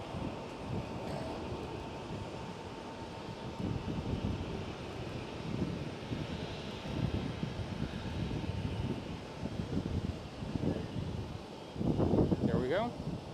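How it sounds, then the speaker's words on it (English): A KLM Dreamliner airliner passing at Schiphol airport, a broad distant jet roar under steady outdoor noise, with someone talking over it. "There goes KLM City Hopper, and there goes a KLM Dreamliner."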